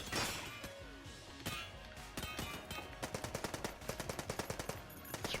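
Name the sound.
Super Meat Gun firing in the video game Enter the Gungeon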